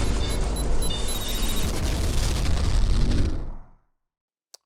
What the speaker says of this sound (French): j'aime vraiment beaucoup trop les explosions